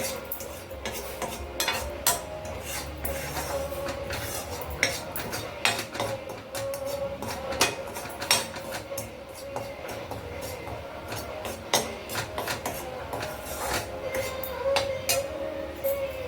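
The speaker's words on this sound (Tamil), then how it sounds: "அடுப்பில் சிம்மில் வச்சுட்டு லேசாக இந்த மிளகா அப்படி ஒரு பரட்டிக்கிறேன், வாசனை வர அளவுக்கு" Dried red chilies stirred and roasted on low heat in a pan on the stove for pumpkin sambar, with steady scraping and clinking of a utensil against the metal pan, close and continuous.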